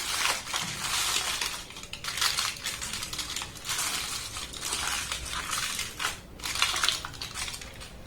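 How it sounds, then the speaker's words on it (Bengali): Aluminium foil is pressed and crinkled over a container during homemade ice cream prep, giving a close, steady crackling rustle for about eight seconds with brief pauses. "ফয়েল পেপার দিয়ে এটাকে খুব সুন্দর করে আমি কভার করে দেব"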